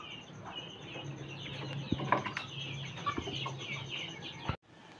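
Chickens cluck softly nearby, with scattered short calls and a brief flutter, over a quiet background hum.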